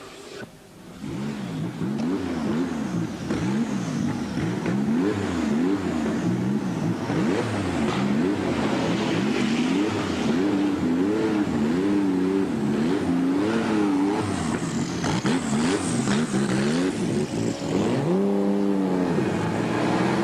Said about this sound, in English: I will make a round with you on the Silverstone circuit with my Porsche of Stadler Motorsport